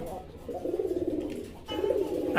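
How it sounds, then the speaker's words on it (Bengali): A fancy pigeon of the mukhi breed coos in low, rolling bursts, close by, repeating twice with a short pause between. "খুব কম দেখবেন এই কালারের মুখী কবুতর"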